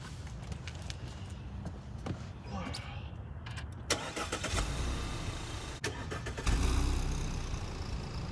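Audi A4 quattro starting up: a starter crank followed by the engine catching and settling into a steady idle, heard from inside the car over a faint rustle of movement.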